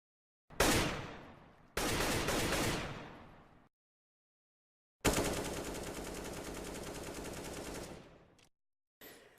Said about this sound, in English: has changed their gun sounds to sound less harsh and be more acceptable for larger audiences